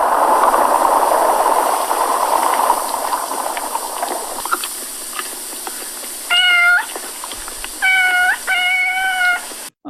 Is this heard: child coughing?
no